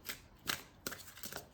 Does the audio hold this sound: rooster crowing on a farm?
no